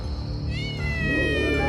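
A cat meows and caterwauls in a drawn-out, wavering cry used as a horror-story sound effect, loud and close over a steady low background rumble.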